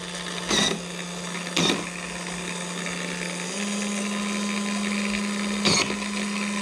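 A Lyman Case Trim Express electric trimmer cuts a brass cartridge case with a steady motor whine, punctuated by three short, louder grinding bursts as the case is pushed against the blade.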